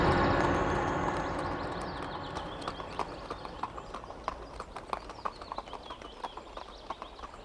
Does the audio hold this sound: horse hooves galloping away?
yes